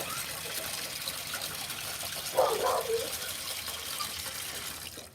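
Fresh water is poured for dogs, a steady trickling stream running throughout with a brief splashier burst in the middle, heard against a constant background hiss.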